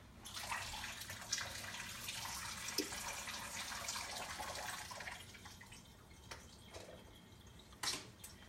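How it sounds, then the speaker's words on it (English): Rehydrated Thrive meat is drained at a sink, water running and splashing in a steady stream for several seconds before easing into softer trickles and a few drips, close and quiet with no voices. "I'm just going to drain this meat."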